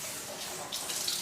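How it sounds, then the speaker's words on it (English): Coffee-dyed fabric is rinsed under a running tap, giving a steady close hiss of flowing water with a little extra splashing toward the end. "just rinse it slightly"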